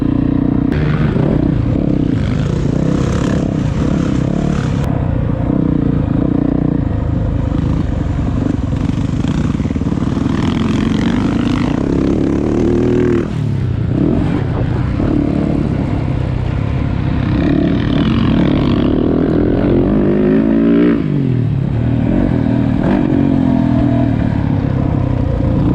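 Dirt bikes on a motocross track, engines snarling and revving continuously at close range, rising and falling as throttles open and close, with a loud steady roar throughout.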